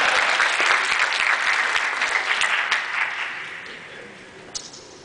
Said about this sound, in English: applause for everybody who ever served